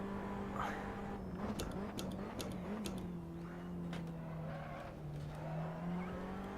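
Formula Abarth race car engine in Assetto Corsa, a steady buzzing drone whose pitch rises and falls with throttle, punctuated by brief clicks of gear changes, continuous and close.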